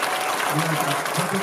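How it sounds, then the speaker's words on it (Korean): Audience applause at a disability welfare center's new-year ceremony and director inauguration in Seoul, a steady wash of clapping that fills the clip while a voice speaks over it. "여러분 크게 박수 한번 보내주시면"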